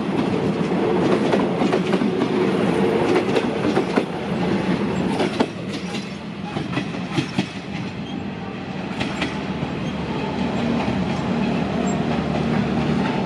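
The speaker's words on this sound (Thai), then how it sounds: "ขบวน304ลพบุรีกรุงเทพมาอย่างแรงครับ" Diesel railcar train 304 from Lopburi to Bangkok rolls loudly into Bang Sue station on a holiday, with a steady rumble, rhythmic clickety-clack over the rail joints and faint wheel squeal, close and continuous.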